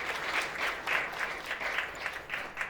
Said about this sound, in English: Can we give Christopher Norris, aka Fletcher, one more round of applause?